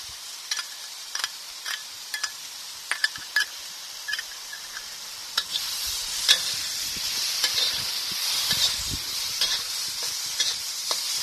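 Okra stir-frying in a pan with tamarind and garlic over low heat, soft steady sizzling broken by repeated scraping and clattering stirs, no voices.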